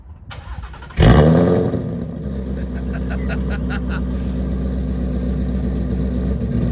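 A fully modded Shelby GT350 with a flat-plane crank V8 barks to life with a sharp, loud crack, then settles into a deep, steady rumble close by as the exhaust valves open.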